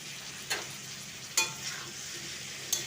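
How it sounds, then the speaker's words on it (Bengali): Softened onions fry with jackfruit pieces in a pan for a spicy jackfruit curry, a faint steady sizzle broken by three sharp scraping stirs spaced about a second apart. "আমি আবারও মিশিয়ে একটু ভেজে নেব এখন"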